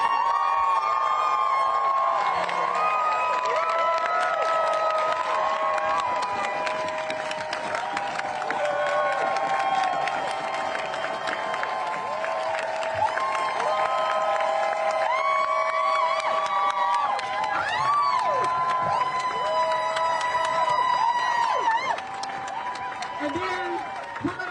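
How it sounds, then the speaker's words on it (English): Large outdoor crowd at a Netflix employee walkout rally cheering, whooping and clapping nonstop for over twenty seconds. The dense, loud roar is full of shrill individual shouts, and a few voices rise above the mass. "we're gonna cheer with everything that we have in us for them"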